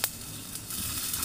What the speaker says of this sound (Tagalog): igisa na natin ang ating bawang,